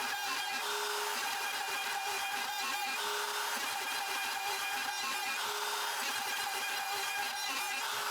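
A CNC machine cuts out a wooden jewelry box with a continuous, even grinding and whirring drone that holds steady throughout at moderate loudness, with no talking.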